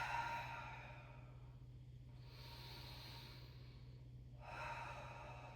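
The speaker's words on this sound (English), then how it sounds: "3 big breaths here" Slow, deep breaths during a Pilates knee-hug stretch, three broad airy exhalations separated by quiet gaps, close and soft over a steady low hum.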